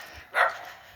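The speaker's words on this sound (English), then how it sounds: "I don't want you hearing that dog barking" A single dog bark sounds at a distance on a backyard homestead, brief and moderately faint against a quiet outdoor background.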